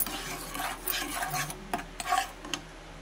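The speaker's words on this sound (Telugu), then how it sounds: "కొంచెం బ్రౌన్ కలర్ వచ్చే వరకు కలుపుతూ ఉండాలి" Laddu mixture of flour and ghee is stirred and scraped around a pan, giving a steady run of soft rubbing strokes with a few sharper spoon clicks against the metal, close up and with no talk.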